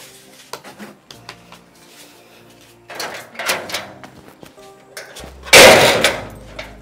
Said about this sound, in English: You're banging the door like that